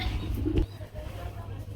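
Magpie pigeons coo in a short, soft, low burst, caught close over a steady low background hum.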